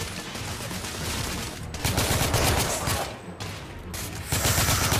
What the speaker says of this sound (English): Oh, I heard that shot.